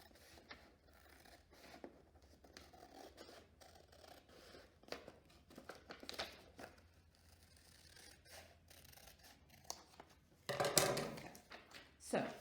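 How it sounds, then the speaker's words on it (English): Scissors cut along a folded line in origami paper, giving quiet scattered snips and scratchy rustles followed by a louder, sharper cut near the end. "Let me open it up and cut along this line."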